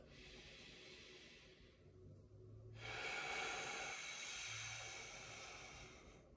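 Deep, slow breathing during a supine exercise with the shoulders reaching and rounding, heard as soft, close breathy airflow with a long hissing exhale swelling and fading, no talking.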